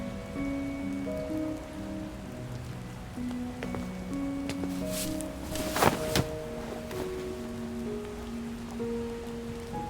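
Rain falls steadily through a stormy night, a constant patter on surfaces with music playing beneath and a brief louder splash or thud near the middle.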